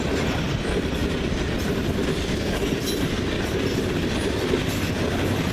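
A BNSF-powered freight train with distributed power locomotives, including an ES44C4, rolls past close by in Ladysmith: a steady, loud rumble of wheels and cars with a faint clickety-clack and no voices.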